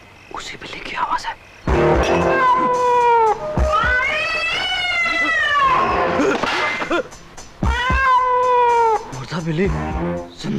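A cat caterwauls in several loud, stretched, warbling meows, one after another with brief gaps, in a spooky horror-film setting. Short noisy bursts surround the calls.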